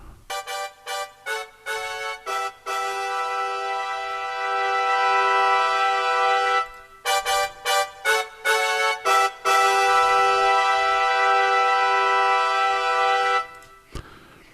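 A keyboard plays short staccato chords and longer held notes in a brass-like tone, mimicking a horn section in punchy, rhythmic phrases.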